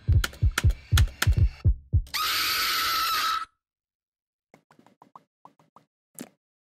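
A horror game set in a sewer plays a run of deep, thumping heartbeat pulses, followed by a loud burst of static noise and then a scatter of faint clicks and a short final tone, with no voices.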